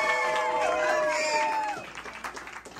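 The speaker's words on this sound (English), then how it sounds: "Let's hear for Dorothy one more time" A live audience at a Hollywood show at the Viper Room claps and cheers, with whoops and shouts riding over steady applause that thins out toward the end.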